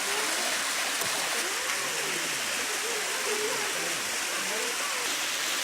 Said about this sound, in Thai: ความสวยงามนะครับของน้ำตกขนาดเล็กนะครับ